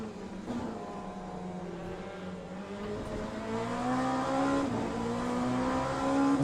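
LMP2 prototype race cars in the sim racing game Le Mans Ultimate, a steady engine drone that rises in pitch as the cars accelerate, loud and continuous with no talking.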